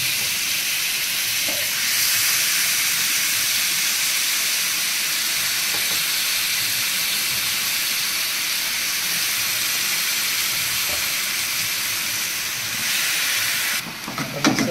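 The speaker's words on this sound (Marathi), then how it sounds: "अळंबी टाकतोय आपण याच्यामध्ये बघा." Wild mushrooms added to hot masala fry with a loud, constant, close hiss that holds steady for the whole stretch and ends in a few faint clatters.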